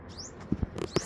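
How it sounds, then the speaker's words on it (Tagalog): A few quick high chirps from small birds, faint and brief, amid soft rustling and light tapping sounds close by. "puro huni lang ng ibon"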